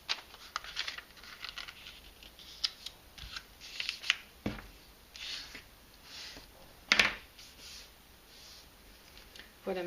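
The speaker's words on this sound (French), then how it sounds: "donc je découpe ce qui dépasse ici." Scissors trim excess paper from a handmade birthday invitation card, giving sparse, soft snips and paper rustles, close and fairly quiet, with a couple of sharper crinkles.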